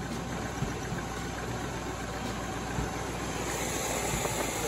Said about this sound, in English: it idles with the choke on